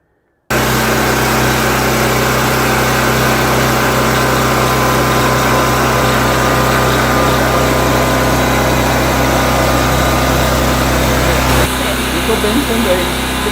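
A portable fuel generator runs close by with a loud, continuous engine drone that stays steady for the whole stretch and shifts slightly near the end.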